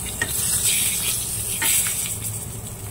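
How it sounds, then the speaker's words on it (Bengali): Whole spices, including cumin, bay leaf, dried chilli, cardamom, cinnamon and cloves, sizzle in hot oil after fish frying, making a steady bright hiss with occasional stirring scrapes and pops, close and continuous. "তেলের মধ্যে দিলাম জিরে, তেজপাতা, শুকনো লঙ্কা আর গরম মশলা, এলাচ, দারচিনি আর লবঙ্গ।"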